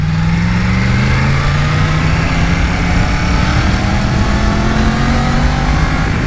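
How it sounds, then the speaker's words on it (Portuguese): A Yamaha MT-10 motorcycle engine with its original exhaust roars continuously with rising pitch as it revs and accelerates, close and steady throughout. "e depois este motor grita"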